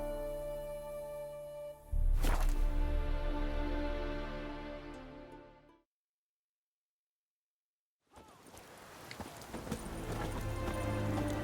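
Hooves of the horse Roach clopping in The Witcher 3: Wild Hunt, a loud steady run of hoofbeats layered with music that cuts out into silence, then resumes with more movement.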